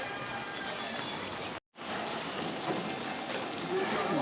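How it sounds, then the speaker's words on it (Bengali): Rain falls steadily on a town street in Manikganj, a soft, even wash of patter that cuts out briefly and then resumes. "বৃষ্টি এখন আবার কিছুটা কমেছে"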